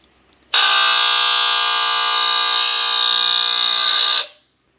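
A NuTone Scovill S-181-L smoke alarm's test tone blares loud and piercing continuously for about four seconds, then cuts off abruptly into silence.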